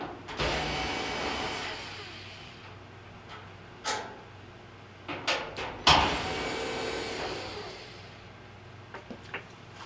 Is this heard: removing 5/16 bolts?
yes